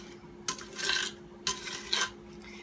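Crispy rice treat mixture pressed and scraped into a pan, giving soft crunchy rasping rubs in two short bursts with quiet gaps between.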